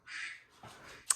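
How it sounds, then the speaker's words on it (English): A phone ringtone set to a duck's quack goes off indoors, giving a couple of loud, nasal honking bursts followed by a short sharp chirp at the end, with no voices. "So I'm sorry that it's quacking right now."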